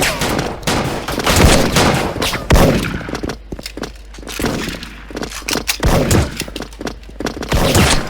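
An M110 SASS rifle firing in the shooter game Special Force: loud, sharp shots in quick irregular bursts, with brief gaps between volleys and some muffled thumps.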